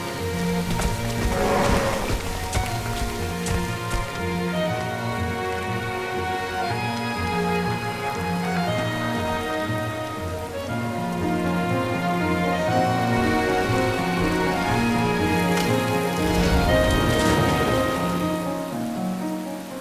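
Steady rain pours through a video game trailer scene, a dense continuous hiss laid over musical score, with a low rumble swelling near the end.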